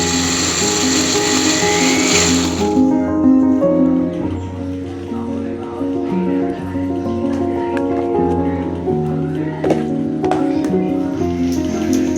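A kitchen blender grinds ginger and garlic into paste for a Tamil crab kuzhambu, a loud, close, steady motor whine with a shift in pitch and grinding texture.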